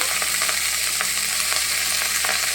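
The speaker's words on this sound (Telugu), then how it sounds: "ఇప్పుడు ఆకుకూర వేయించుకుందాం ఆయిల్ సరిపోతుందండి ఎక్కువ ఆయిల్ అక్కర్లొద్దు" Leafy greens (ponnaganti leaves) frying in a small amount of oil for a coconut chutney, a steady dense sizzle with light stirring clicks, close and continuous with no talking.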